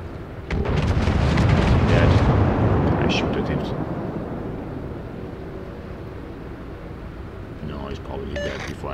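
Heavy naval gunfire and booming shell explosions from a warship video game engaging the Gneisenau, a loud sustained rumbling blast that swells early then slowly decays, with faint crackling detail and speech-like sounds in the mix.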